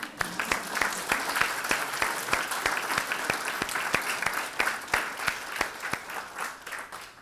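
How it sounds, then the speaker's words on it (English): An audience at a gathering on women leaders in Qatar breaks into rhythmic clapping, sharp claps landing in an even, brisk beat over a bed of scattered applause, sustained and fairly loud throughout. "I think we deserve a clap here"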